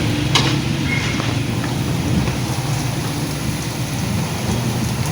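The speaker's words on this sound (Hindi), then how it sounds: "वो देखें बारिश" Steady rain hisses over a low rumbling background, continuous and fairly loud throughout, with no voices.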